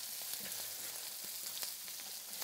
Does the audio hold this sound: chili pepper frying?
yes